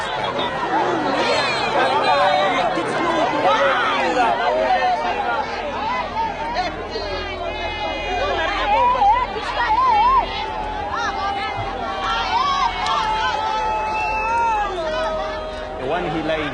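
Residents of an African community gather as a crowd, their overlapping chatter forming a dense, loud babble that carries on steadily throughout, with scattered raised voices rising above the hubbub.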